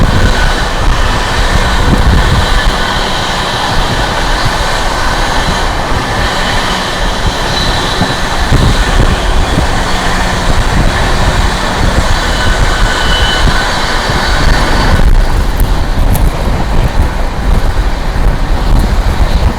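Sealdah Rajdhani Express train running alongside and overtaking the Gaya Delhi Amrit Bharat Express, a loud continuous rumble and roar of rolling wheels and rushing air heard from on board, with a sudden shift in the noise near the end.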